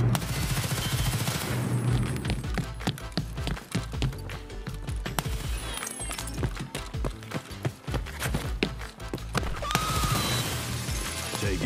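Rapid bursts of gunfire from the shooter game Escape from Tarkov crackle loudly and densely throughout, sharp repeated shots stacking into sustained volleys with brief gaps.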